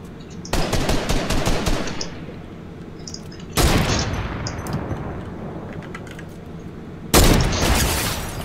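Three bursts of rapid automatic gunfire from a video game, loud and close, each rattling for a second or two before trailing off, with quieter game noises in between.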